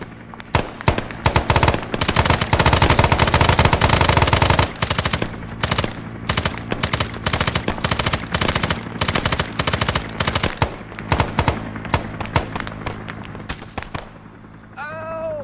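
Long automatic bursts of machine gun fire in a Vietnam War battle in Arma 3, loud and close, with a sustained stretch of rapid fire followed by shorter broken bursts and scattered shots.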